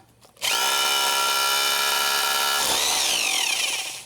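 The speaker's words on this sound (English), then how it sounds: "In addition to having the drilling action, it also has a hammering action." A hammer drill starts abruptly and runs at full power for about three seconds, a loud, steady high-pitched whine whose tone shifts as it bites, then fades out.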